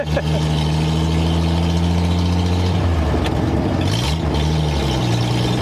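A long-dormant 1962 American Rambler, revived after sitting locked up, drives in second gear with a steady close engine drone whose pitch climbs and dips, while its tires rub against the body.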